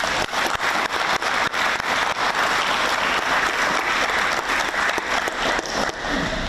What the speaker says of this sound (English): I believe this is deserving of an applause for the whole of Fiji